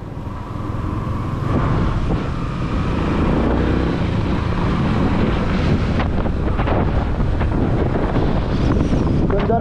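Strong wind roaring continuously across the microphone outdoors, a loud, dense buffeting rush with a low rumble underneath, steady throughout without pauses.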